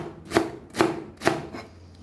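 Knife chopping cabbage on a board for a mango salad, three crisp evenly spaced thuds close up, alone with no talk.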